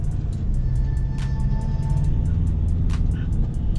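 A 2021 Ford Ranger Raptor 2.0 L diesel pickup drones steadily and loudly while driving over sand with traction control off, with a constant low rumble and occasional faint clicks.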